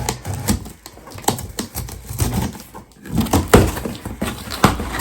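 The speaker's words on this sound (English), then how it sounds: "So I'm gonna open the box and let's see what we got." Cardboard shipping box for a quilting fabric unboxing being opened up close: a run of sharp rips, crinkles and tearing rustles, in several bursts over about five seconds with brief pauses, no talking.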